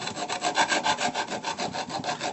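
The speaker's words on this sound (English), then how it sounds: "get out your file." A hand file rasps against a stepper motor's steel shaft while a flat is cut, giving close, even back-and-forth strokes at about four per second.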